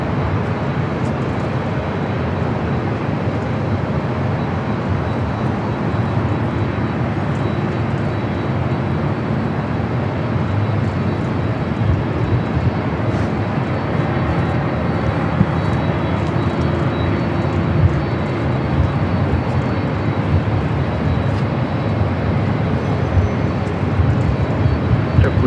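Boeing 747 "Queen" arriving at LAX on the south side: a steady, broad jet roar holds for about 25 seconds at an even, fairly loud level, with no talk over it.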